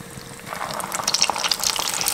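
Cheese-filled rice balls frying in hot oil, a close, steady sizzle and crackle that grows busier and more spattery as it goes on.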